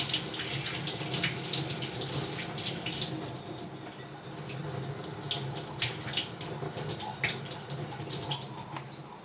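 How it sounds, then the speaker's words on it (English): Cold tap water running over a gold coin in a sink, a steady close rush of splashing water with small fluctuations as the coin is rinsed, continuous throughout with no talk. "let's remove this and I'll rinse it in some cold water."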